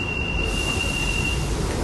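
A London Underground Central line train bound for Epping runs in a steady, loud, continuous rumble from inside the carriage, with a thin high whine over it.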